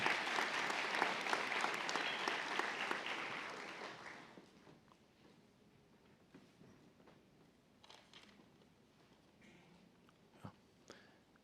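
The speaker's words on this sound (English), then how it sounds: "Round of applause for her." Audience applause at a spring nursing college convocation, loud and dense clapping for several seconds that abruptly thins out to scattered claps and faint room noise.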